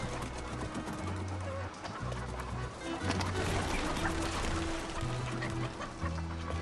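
Qibainong chickens cluck and chatter continuously inside a coop in Guangxi, many birds close together with a steady hum and low tones running underneath.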